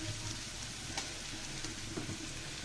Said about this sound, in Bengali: তেলের মধ্যে কিন্তু এই ভাজাটা করব